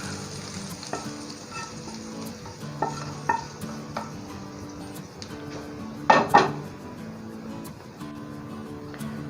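Hot tempering oil sizzles and crackles steadily as it is poured over cooked chickpeas, with occasional clinks of a spoon against a pot and a louder hissing burst midway.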